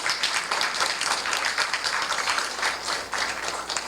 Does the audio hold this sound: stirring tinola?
no